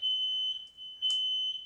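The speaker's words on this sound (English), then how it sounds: "We just have a super sensitive fire alarm." An overly sensitive home smoke alarm beeps in a sharp, piercing tone, sounding in repeated pulses close by, with no talking.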